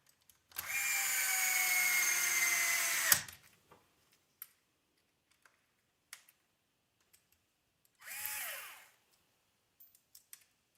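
A power tool drives a screw into a front shock tower on a model car build, one long steady whir followed by a shorter burst, with scattered small clicks of parts between.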